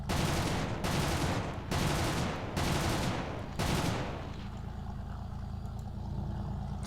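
Machine gun fire in a War Thunder-style tank game, with a gun mounted on the Object 906 tank: long loud bursts of rapid automatic fire broken by short gaps, then fading into a low engine rumble.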